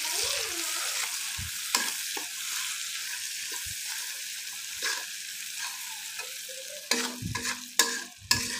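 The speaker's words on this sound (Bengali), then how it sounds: "এগুলো একটু ভাজা ভাজা হওয়া পর্যন্ত অপেক্ষা করছি" A generous amount of sliced onion fries in oil with a quiet, even sizzle, broken by occasional spatula knocks and scrapes that grow busier and louder toward the end.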